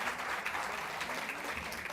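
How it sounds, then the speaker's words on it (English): Steady crowd applause at a festival session, a dense, even wash of clapping sustained throughout, fairly faint and distant. "Let's give them a round of applause."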